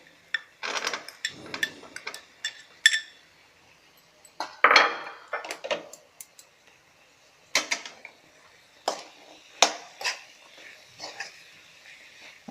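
Potato and capsicum fry sabji, salted, being stirred in a pan, giving intermittent scraping clinks and metallic taps from the utensil, moderately close with quiet gaps between strokes.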